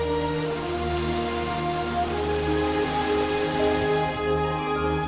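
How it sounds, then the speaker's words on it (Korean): Rain falls in Eorimok valley on Jeju Island as a steady, even patter over a sustained tonal background, with no voices. "이렇게 메마른 어리목 계곡에 비가 내리면 금세 물이 흘러넘칩니다."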